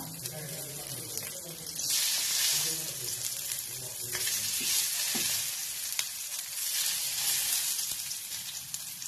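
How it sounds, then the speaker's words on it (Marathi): Mixed vegetable tikki patties sizzle and fry in hot oil in a home kitchen, a steady crackling hiss throughout with occasional stirring or turning sounds and a faint voice underneath. "हे आता फ्रायला पण मी ठेवलेलं आहे."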